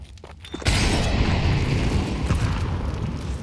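Counter-Strike grenade explosion at a professional esports match, a sudden loud boom after a brief quieter lead-in, followed by a sustained roaring, rumbling decay that stays heavy for several seconds.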